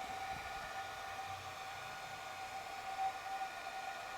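A newly built forge fires up with its gas burner roaring, a steady broad rushing hiss with a faint tonal whine holding unbroken and close throughout, no voices over it.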